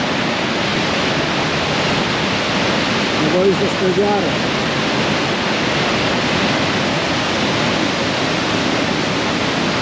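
A mountain stream in the Balkan peaks rushes steadily, a dense continuous roar close by, while a brief spoken remark passes midway over the water.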